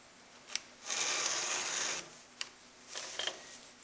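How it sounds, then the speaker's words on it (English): A round file rasping along a chainsaw chain: several short scrapes and one long, steady gritty stroke, close and fairly quiet, with no voices. "you will file the other side in this manner"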